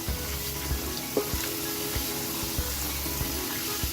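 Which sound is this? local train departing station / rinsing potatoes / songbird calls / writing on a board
rinsing potatoes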